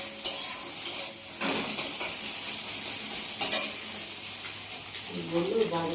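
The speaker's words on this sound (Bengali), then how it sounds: "কি রান্না হচ্ছে গো মা? চাউমিন?" Chow mein stir-fried in a pan, with a steady sizzle and repeated scraping stirs running throughout, fairly close and moderately loud, with a brief voice heard near the end.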